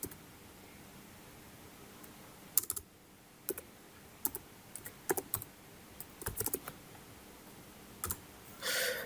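Typing on a computer keyboard, a scattered run of light, quiet key clicks in small irregular clusters over a faint background hiss.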